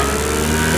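A YX pit bike engine revs hard during a test run, a brief loud and steady mid-pitched engine roar heard close up with no speech.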